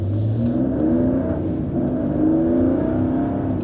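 A 2019 Mercedes GLE 450 engine pulls away and accelerates in traffic, a steady close rising drone heard from the cabin with no talking.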